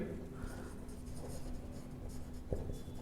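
Pen or marker writing out a maths equation for a linear-equations problem: faint, continuous scratchy strokes in a quiet room, with one sharper tap near the end.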